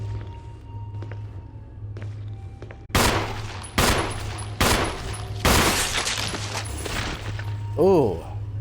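Resident Evil (2002) gunshots, four loud sharp handgun-like blasts spaced about a second apart over a low steady hum, followed by a short groaning sound.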